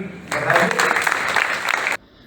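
An audience at a Teachers' Day event at a medical college breaks into dense, steady applause that lasts about a second and a half and then stops abruptly.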